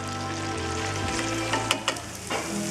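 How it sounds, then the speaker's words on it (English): Ground meat browning in a hot pan while being broken up into small pieces, a steady loud sizzle with a few sharp scraping and tapping strokes of the utensil near the end. "you're going to break up the meat to the smallest pieces you can get while it's browning"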